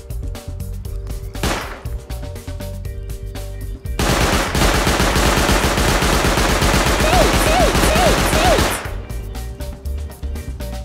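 Rapid automatic turret gunfire in the survival video game Rust, a loud sustained burst of shots lasting several seconds amid game ambience, with quieter sporadic sounds before and after.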